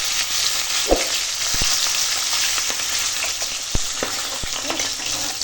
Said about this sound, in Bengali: আর দেখো এখন মাছটা ভাজা হয়ে গেছে